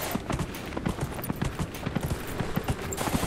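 A warhorse mount in Dragon Age Inquisition clops along with fast, regular hoofbeats, close and distinct, sounding alone over a faint background.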